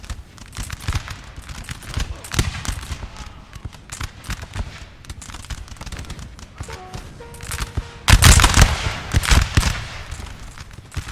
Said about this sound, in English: Just enjoying the musket fire is amazing.